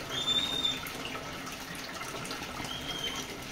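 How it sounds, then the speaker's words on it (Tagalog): Water pours steadily during a home aquarium water change, a faint, even trickle and splash that runs without pause. "At nagpapalit ng tubig."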